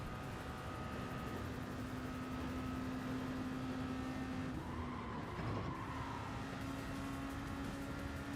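Race car engine in the video game Gran Turismo 7 during a daily race lap, a steady droning engine tone with slight pitch changes, moderately faint and alone without talk.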